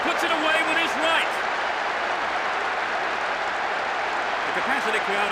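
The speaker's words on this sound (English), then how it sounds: "The capacity crowd are enjoying the goal celebration." Stadium crowd in the football video game PES 2007 roars steadily after a goal, a dense continuous cheer with a commentator's voice speaking over it throughout.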